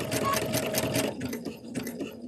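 A Kimberbell-project embroidery machine runs a quick locking stitch, a fast rhythmic mechanical chatter of needle strokes that tapers into softer, spaced clicks as it finishes, close and alone.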